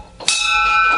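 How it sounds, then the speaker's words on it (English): A bar bell is rung loudly once for shot time and keeps ringing in a bright, sustained metallic tone that holds steady for about a second. "Ring the bell"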